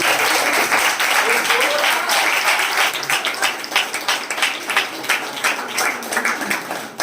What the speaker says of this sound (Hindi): पवित्र आत्मा के लिए जोरदार ताली बजा दें।